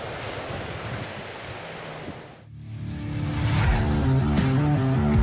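Steady rushing surf on Kasap beach, Pacitan, with rocky coral outcrops, fills the first half, then a brief dip before fuller, louder waves wash in with a broad roaring hiss.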